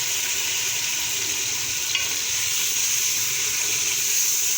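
Mutton frying in a pan with onions and ginger-garlic paste for tinday gosht gives a steady, close, unbroken sizzling hiss, with no one talking.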